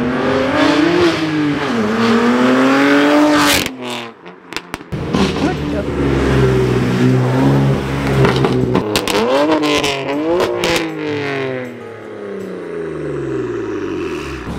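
A BMW M4 with a $5000 aftermarket exhaust makes a loud flyby, revving hard with sharp pops and crackles. Engine notes rise and fall close by, and a brief lull comes between bursts. People talk over parts of it.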